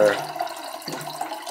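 Water runs from a tap in a steady, close rushing stream, with a brief gurgling change partway through and no clear talk.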